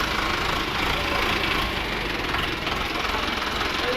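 An Eicher 364 two-cylinder tractor, a 2013 model in new condition, idles with a steady low chugging throb at a tractor market, loud and continuous throughout.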